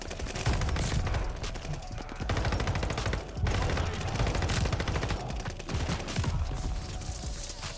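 Dense automatic gunfire in a Call of Duty Vanguard multiplayer match, with rapid overlapping bursts in several long volleys separated by brief gaps, loud and close.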